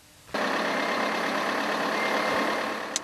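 Car running on test rollers inside an acoustic test lab, a steady loud broadband roar that starts abruptly and holds constant, with a short high beep near the end.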